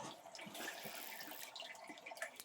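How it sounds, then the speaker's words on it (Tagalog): Water bubbles and gurgles faintly inside a hole where a water buffalo snake is said to live, soft irregular burbling and trickling with small pops throughout. "May bumula-bula."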